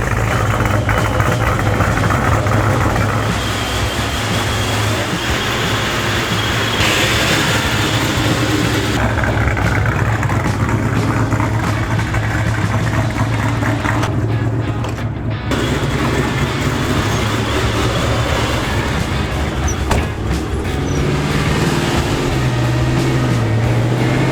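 A 2002 Mustang GT V8 on its break-in tune idles steadily and loudly up close, with a constant low rumble and slight shifts in pitch over about twenty-four seconds.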